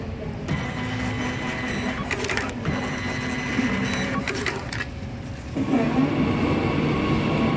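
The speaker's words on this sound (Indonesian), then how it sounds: "Mari kita cetak e-boarding pass terlebih dahulu ya." A ticket printer whirs and chatters in steady bursts, printing a boarding pass over the hum of a busy train station, with brief pauses between printing runs.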